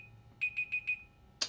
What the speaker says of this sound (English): that alarm that just went off was the 30-second timer